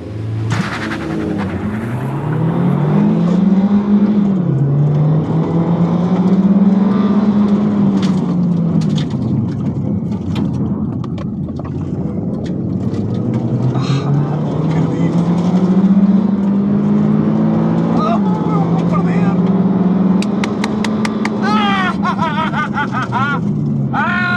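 Mazda MX-5 and Nissan Juke Nismo accelerating hard side by side in a drag race, engines rising in pitch through gear changes with loud, continuous roar and brief drops between shifts, voices talking faintly underneath.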